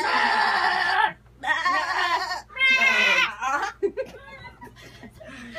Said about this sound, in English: Are those goats I hear? Yes,